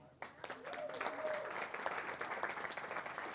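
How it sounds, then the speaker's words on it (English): Applause at a poker tour main event final table, thanking sponsors, rising after a brief quiet start into steady moderate clapping from a room of players, with some voices mixed in. "So let's give them a big clap."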